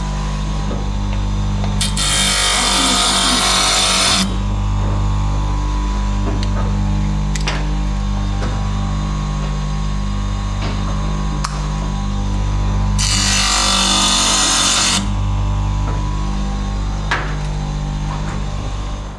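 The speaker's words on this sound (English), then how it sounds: "Got to trim the side of the rivets off so that they'll actually fit." A power tool trims rivets inside an endurance race car's interior, making two harsh grinding bursts of about two seconds each over a steady low mechanical hum.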